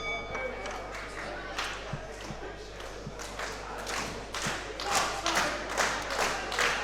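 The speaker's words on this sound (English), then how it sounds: "There's some rhythmically challenged, yet enthusiastic people in the crowd tonight, Mr. Alexander." Crowd at a wrestling event clapping in an uneven, ragged rhythm, with claps and thumps scattered through steady crowd noise and a low hum underneath; voices murmur throughout.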